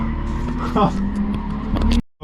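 A drift car skidding on a new drift track in Slovenia, with a sustained engine drone and a tire squeal that rises over it, plus a brief voice, ending in abrupt silence.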